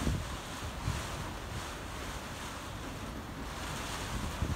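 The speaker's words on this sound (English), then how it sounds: "Look at the swell coming in." Ocean swell rolls in at a very windy coastal snorkel spot, a continuous wash of surf mixed with gusting wind buffeting the microphone, with no voices.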